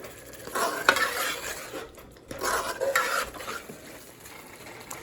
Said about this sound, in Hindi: इसको अच्छे से भूनना है, तब तक भूनना है जब तक ये ऑयल ना छोड़ दे चिकन।